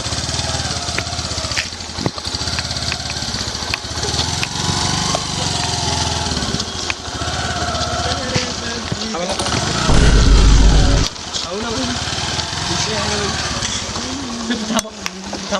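A motorcycle engine runs and revs unevenly while someone learns the gears and clutch, buzzing steadily with a loud burst near ten seconds, under frequent talk in Marathi.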